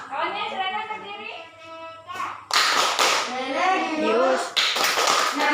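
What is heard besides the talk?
children doing the PPK rhythmic clap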